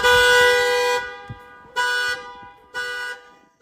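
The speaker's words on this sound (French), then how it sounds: "Une voiture est arrivée avec un problème de klaxon qui sonne à chaque virage." A faulty car horn that goes off on every turn after a headlight replacement blares one long, loud blast, then gives two shorter honks with brief gaps between them, close and with no voices.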